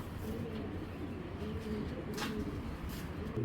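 Giribaz pigeons coo together in a low, continuous murmur of overlapping calls, with a brief sharper chirp partway through and no one speaking.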